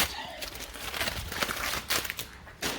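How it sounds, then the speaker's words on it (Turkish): Protective foil peeled off a brand-new VW T6.1 Multivan gives close crinkling and tearing sounds that come in uneven bursts, with brief pauses between pulls. "Şu kısımlardan çekerken dikkat ediyoruz ki içerisinde folyo parçası kalmasın"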